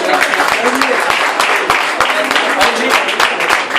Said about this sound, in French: Applaudissez Xavier Kabongo.